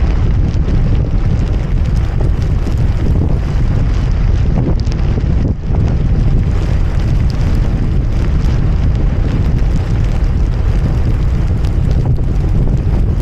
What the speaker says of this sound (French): Depuis le début j'ai que du vent de face.